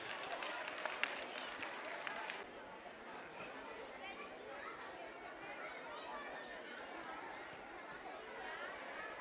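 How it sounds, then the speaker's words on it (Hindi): Audience clapping at a school annual gathering, dense and loud at first, then thinning into lighter scattered applause mixed with crowd chatter. "जोरदार तालियों से करें।"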